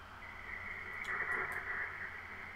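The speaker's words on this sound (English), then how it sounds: "we have built-in white noise. So if you click this button right here" Steady hiss of white noise from a GB-1 ghost box device, an even, continuous wash with a bright band in the upper range and a few brief faint blips, alone with no voices.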